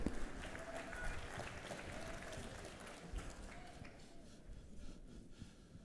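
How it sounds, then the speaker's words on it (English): Audience applause greets the Delaware State head football coach at a Mid-Eastern Athletic Conference press luncheon, a steady moderate clapping that fills the room and holds throughout. "Round of applause"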